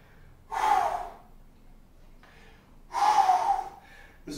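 Two heavy, rasping gasps for air come after a set of kettlebell reps, close and loud, separated by quieter panting breaths.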